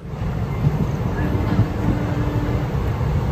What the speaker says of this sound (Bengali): আমাদের ট্রেন কাটোয়া জংশন স্টেশন থেকে ছেড়ে দিল